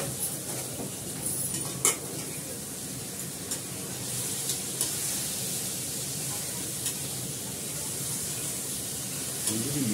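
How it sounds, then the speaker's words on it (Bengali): Meat goes into a pan of fried potatoes and sizzles loudly and steadily, with occasional scrapes and clinks of stirring close by and no talking. "এটা ভাজি হয়ে গেছে, এবার মাংসটা দিয়ে দেবো।"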